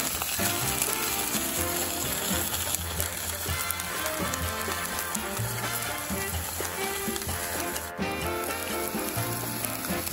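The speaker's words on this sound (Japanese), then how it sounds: "丁寧にじっくり焼いていきます。" Steady sizzling and crackling of a dried blackthroat seaperch (nodoguro) cooking on a hot grill, continuous and close, with a background of music.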